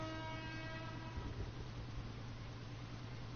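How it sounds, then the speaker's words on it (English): A boat horn in the Fishing: Barents Sea video game blares with a deep, sustained tonal blast that fades out over a few seconds, loud and close with no talking. "Honk my horn."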